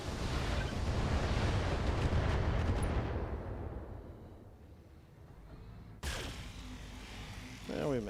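Mech weapons fire and explosions in the BattleTech video game: a heavy, rumbling barrage of booms for about three seconds that fades to quieter noise, then a sharp burst and a later whooshing sweep.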